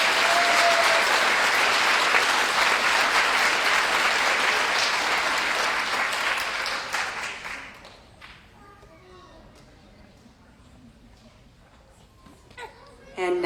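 A school board special meeting audience gives a big round of applause for students, loud and steady for several seconds before fading out, with faint talking and a few claps afterward.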